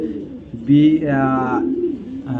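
A light-coloured male racing pigeon with a leg race chip gives a low, throaty coo, one rolling call lasting over a second, close by, while someone speaks around it.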